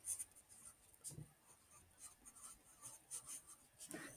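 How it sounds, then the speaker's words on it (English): Marker or pen writing a word on a board during a classroom story-retell lesson, with short scratchy strokes spread over a few seconds, quiet and close with no talking. "So I'm going to write Goldilocks."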